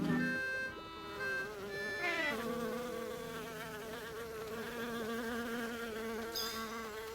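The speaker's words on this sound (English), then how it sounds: "Oh, it's this another bee." A bee in a cartoonish adventure video game drones with a tonal, wavering buzz that rises and falls in pitch, sitting over light game music and chimes for several seconds without speech.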